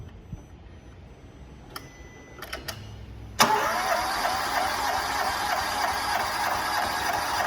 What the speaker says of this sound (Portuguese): Dá partida, por favor.